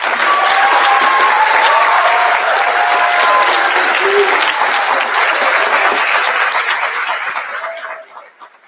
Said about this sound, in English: So give yourselves another big round of applause.